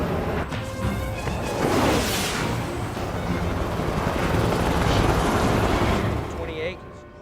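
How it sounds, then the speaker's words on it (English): Military helicopters fly in to pick up a downed pilot during a Red Flag air combat exercise, a loud, continuous rotor roar with sharp crashing bursts, tapering off at the end. "enemy choppers moving in to pick up the downed pilot"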